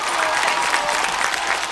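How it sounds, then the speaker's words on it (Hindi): Audience applause at a kavi sammelan (poetry recital) for the Gullak family: dense, steady clapping from a large crowd, loud and continuous throughout. "गुल्लक के पूरे परिवार के लिए जोरदार तालियां"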